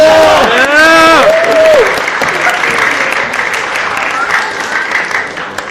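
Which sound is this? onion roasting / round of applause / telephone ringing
round of applause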